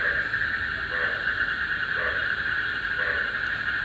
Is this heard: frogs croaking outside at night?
yes